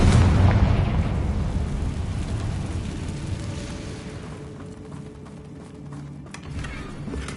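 A Confringo blasting spell detonates in Hogwarts Legacy inside a mine, a loud deep boom that rolls into a long rumbling decay lasting several seconds, with no talk over it.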